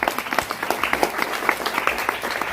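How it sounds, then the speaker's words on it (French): An audience of about 250 people at a stage magic show applauds a volunteer, a dense, steady patter of many hands clapping at moderate loudness, with faint voices mixed in. "On peut l'applaudir très fort, on peut l'applaudir."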